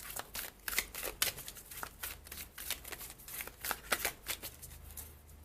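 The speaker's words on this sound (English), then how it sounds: "let me pull you a card from this deck" A tarot or oracle card deck being shuffled by hand, with a run of quick, crisp riffling card flicks in close succession, close and fairly quiet with no speech.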